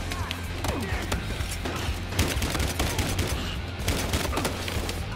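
Rapid video-game gunfire in Battlefield Hardline strikes the player, dense overlapping shots and impacts crackling continuously, with scattered voices in the mix.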